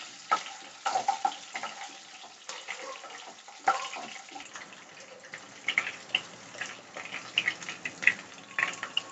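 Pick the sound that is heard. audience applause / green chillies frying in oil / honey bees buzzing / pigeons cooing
green chillies frying in oil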